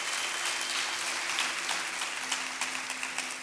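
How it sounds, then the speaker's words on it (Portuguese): A church congregation claps together for a few seconds, dense and steady applause at moderate loudness with no speech over it. "pode dar uma salva de palmas para Jesus."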